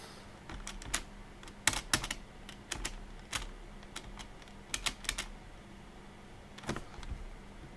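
Keys tapped on a computer keyboard, a run of sharp, separate clicks in loose, uneven bursts over a low steady hum, close and clear with no talking.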